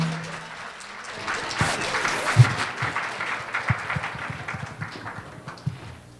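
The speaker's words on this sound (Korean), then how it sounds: "힐링하모니 합창단과 대학생 파트너에게 다시 한번 큰 박수 부탁드립니다" Applause from a workshop audience after a performance by a choir and university student partners, a steady wash of clapping that swells and holds for several seconds, fairly close with a few sharper claps standing out.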